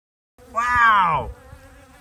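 A honey bee buzzes around a beehive. One close, rising-and-falling drone lasts under a second, with faint quieter buzzing after it.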